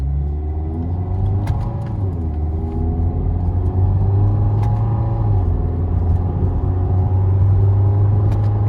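A 2012 Mazda 3 fitted with a short ram air intake idles and revs with a loud, close, deep rumble, engine tone rising and dipping under load throughout.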